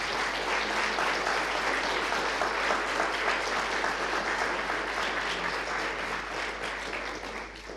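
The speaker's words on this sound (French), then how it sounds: "ça va être le moment où vous pouvez applaudir" A seminar audience applauding in a hall, dense even clapping that holds steady and then thins slightly toward the end, with no talking over it.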